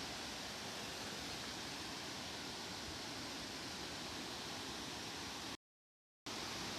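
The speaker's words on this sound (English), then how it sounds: "The cool breeze of the waterfall gently caresses me." A waterfall at an abandoned mill gives a steady, even broadband rush, fairly faint, broken by a brief moment of total silence near the end.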